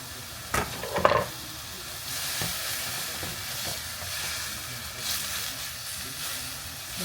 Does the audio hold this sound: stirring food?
yes